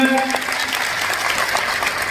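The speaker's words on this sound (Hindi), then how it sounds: "जोरदार तालियों से अभिनंदन।" Sustained applause from a crowd at a tribal conference, steady and fairly loud throughout, with a dense clatter of hand claps and some voices mixed in.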